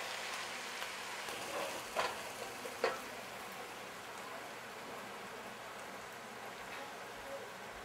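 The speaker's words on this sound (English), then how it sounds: "you need to constantly stir the onion, otherwise it will burn" Onions fry in a pan for chicken biryani, giving a steady soft sizzle with a couple of faint scraping stirs, while a person talks quietly over it.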